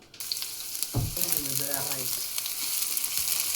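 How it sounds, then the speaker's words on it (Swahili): Chopped onion hits hot oil in a pan with a burst, then a steady loud sizzle and crackle that carries on alone. A short low tonal murmur rises briefly over the frying. "Kwa pan naeka mafuta, kitunguu."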